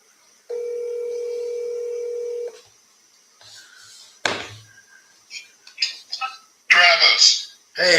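A phone line tone sounds steadily for about two seconds as a call back to a live seller is placed, followed by short clicks and brief bursts of talk close by.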